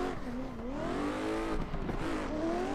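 A car drifting through box turns around a front pylon in third gear during drift competition testing: a sustained engine drone rising and falling in pitch with steady revving, with tire noise underneath.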